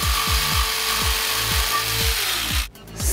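Wood for the flooring of a kei-car camper van is cut to length with a saw. About seven rhythmic rasping strokes come close and loud, evenly spaced about half a second apart, then stop.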